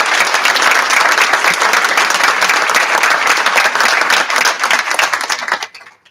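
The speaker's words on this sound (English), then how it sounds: "how about a nice round of applause again for all the kids?" Loud, dense applause from a board of education meeting audience honoring students, many hands clapping steadily before fading out abruptly near the end.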